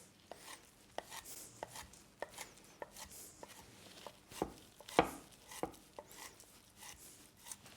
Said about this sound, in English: we're going to chop it a little bit